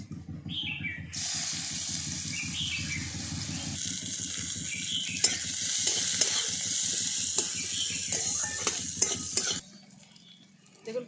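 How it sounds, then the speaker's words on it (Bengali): Chopped onions and whole cumin frying in hot oil in a pan, a steady loud sizzle with stirring scrapes and occasional clinks of a utensil, cutting off near the end. "পেঁয়াজগুলো একটু হালকা করে ভেজে নিয়েছি"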